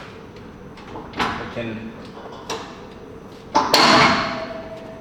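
A 60–70 kilo heavy punching bag moves along a sliding bag rail, giving loud metallic clunks and rolling rattles, with a few brief spoken words between them.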